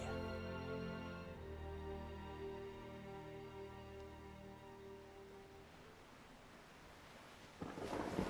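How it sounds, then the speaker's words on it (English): A thunderstorm sound effect with rolling thunder and rain beside a beach waterline, a steady low rumble across the whole stretch that swells louder near the end. "There's a storm rolling in from the waterline."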